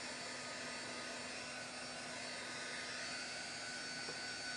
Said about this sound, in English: What is the best heat gun? Your hair dryer.